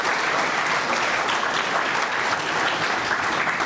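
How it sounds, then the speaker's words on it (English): A city audience gathered for a State of the City address breaks into loud, dense applause, a continuous wash of many hands clapping at once with no talking over it. "Give ourselves a round of applause for that"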